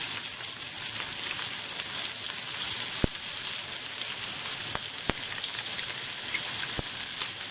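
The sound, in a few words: mussels frying in a pan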